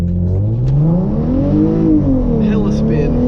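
A Hyundai Genesis Coupe 3.8 launches hard from a standstill with wheelspin, its engine note rising loud and close in a steady climbing drone before easing, with a faint screechy tire edge near the end.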